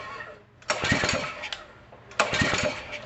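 Predator 224 small engine being pull-started with the rope, two separate pulls each giving a loud sputtering burst of engine noise that quickly fades without catching.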